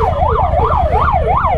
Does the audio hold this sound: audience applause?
no